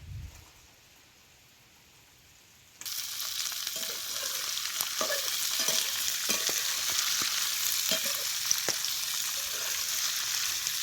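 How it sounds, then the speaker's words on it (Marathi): Broken tender ghevda bean pods are dropped into hot oil, and after a quiet start a loud, steady sizzle bursts up. It is punctuated by sharp scraping and clinking stir strokes close by. "आता या मोडलेल्या शेंगा तेलात चढ भाजून घ्यायच्या."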